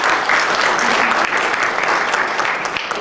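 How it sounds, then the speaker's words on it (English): Audience applause welcomes a conference panel at the 2013 Game Developers Conference, steady dense clapping from a large crowd that fills the room for the full three seconds. "So if we could all give them a round of applause"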